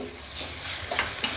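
Ginger garlic paste fries in hot oil with shahjeera and whole biryani spices, giving a loud, steady, close sizzling hiss broken by a few brief spoon scrapes, with no voices.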